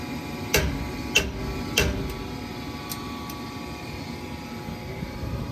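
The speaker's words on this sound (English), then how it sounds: "Look at that, a little tap on the gas valve." A wrench taps a furnace gas valve three times in quick succession, giving sharp metallic knocks over a steady hum of the running furnace, followed by a couple of fainter ticks.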